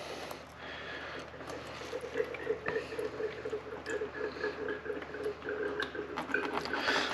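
Engine coolant drains out of a Kawasaki ZZR1400 motorcycle, a steady close liquid splashing and trickling with a faint background hum.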